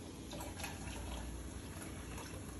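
Bone broth is poured into a glass bowl, making a faint continuous liquid trickle and splash that stays quiet and even throughout, with no voices.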